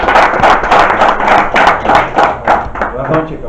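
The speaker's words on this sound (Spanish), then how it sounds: "Un aplauso." Audience applause at a Spanish-language documentary screening event, with a steady run of dense hand clapping that stays loud and even throughout, with no speech on top.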